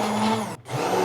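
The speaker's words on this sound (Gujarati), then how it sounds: "હવે આમાં છે ને આપણે બ્લેન્ડર ફેરવી આ એકદમ એકરસ કરી લઈશું બધું." A hand blender whirs steadily through dhokli batter made with turmeric and coriander-cumin powder, a loud motor drone with a brief dip in the middle where it eases off before running at full speed again.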